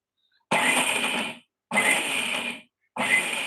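Three short bursts of a mixer grinder on pulse mode whirring, each about a second long, separated by brief silences, loud and close.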